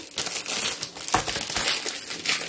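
A Kinder Bueno wrapper is torn open with loud crinkling and crackling of plastic film, close up, in a kitchen while cooking.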